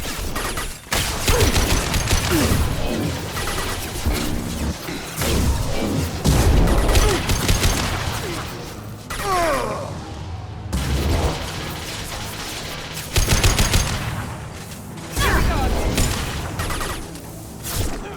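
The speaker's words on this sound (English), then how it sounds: "Taking heavy fire!" Heavy gunfire in Mass Effect 2 crackles and booms in dense, overlapping bursts throughout a chaotic firefight, loud and close, with mechanical clanks and whooshing shots mixed into the din.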